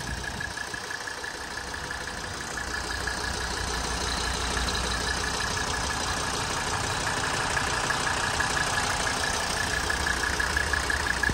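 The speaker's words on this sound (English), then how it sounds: "It sounds just like a diesel should." A 1983 Mercedes 300D diesel engine idles steadily nearby, its low, even clatter holding a constant rhythm with no voices.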